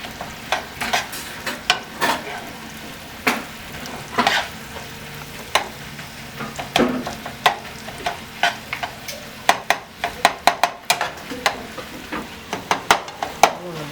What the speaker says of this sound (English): we're dumping the raw vegetables into the sausage